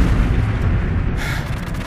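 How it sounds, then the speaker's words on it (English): Predator missile strike in Call of Duty MW2, a heavy rumbling blast with a deep sustained roar, loud and close, with no talk over it. "Friendly Predator missile inbound."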